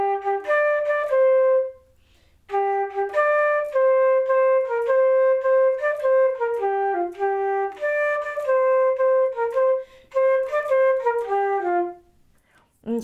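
Four measures of a song played on a flute: clear, close, loud melodic phrases with a swinging rhythm, broken by short pauses for breath and no talking.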